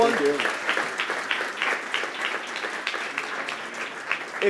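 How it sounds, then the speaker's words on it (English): Applause from a conference panel audience: moderate, even clapping with distinct individual claps, fairly distant, running throughout while a voice talks over part of it. "Big applause"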